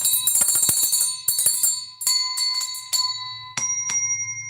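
Small bells ring during an indoor live stream, a flurry of bright jingling strikes followed by a few spaced single rings whose clear tones sustain and overlap, close and fairly loud with no talking.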